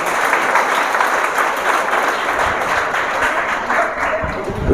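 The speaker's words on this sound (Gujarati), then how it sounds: "આપણે સૌ તેમનું તાળીઓથી સ્વાગત કરશું" An audience claps loudly and continuously to welcome Jiteshbhai Kubavat and his family at an institution's gathering, a dense sustained wash of applause.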